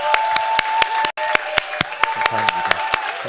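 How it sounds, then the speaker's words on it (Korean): Welcoming applause from a church congregation, a few loud, separate hand claps spaced at a steady beat over a sustained musical tone, with a short silent break partway through. "우리 환영하는 박수 하도록 하겠습니다"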